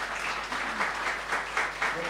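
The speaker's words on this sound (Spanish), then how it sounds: "Un aplauso para Pedro." An audience applauds a guest named Pedro at the close of a master class during a Bolivian film event, with steady, dense clapping throughout that swells in brief waves.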